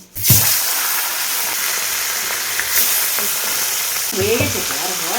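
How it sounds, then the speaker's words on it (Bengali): Fish dropped one by one into hot oil in a home kitchen, with a sharp sizzle at the first drop settling into a steady, continuous crackling fry and a brief stir near the end. "তেলও গরম হয়ে গেছে, এবার মাছগুলো আমি ছেড়ে দেবো এক এক করে।"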